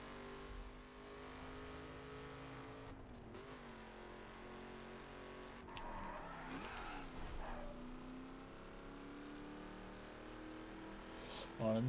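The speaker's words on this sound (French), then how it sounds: "Alors la Mustang se conduit plutôt pas mal" A Ford Mustang drives in the PS4 video game The Crew, its engine droning steadily with a few rising and falling rev changes and brief bursts of tyre noise, moderately loud throughout.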